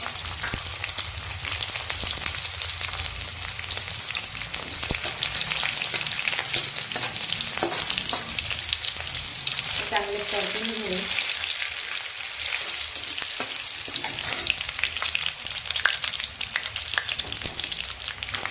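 Eight to ten garlic cloves frying in hot oil with mustard seeds and cumin in a kadai for masala bhindi, a dense steady close sizzle with occasional stirring scrapes and brief speech over it.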